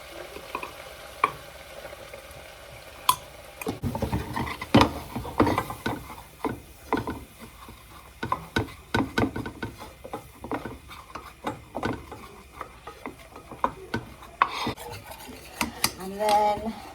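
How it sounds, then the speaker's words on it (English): Spoon scraping and stirring a flour and butter roux in a pan, a run of uneven rasping strokes with faint sizzling, close and fairly loud, no talking. "just keep stirring it to get all the ingredients to come together"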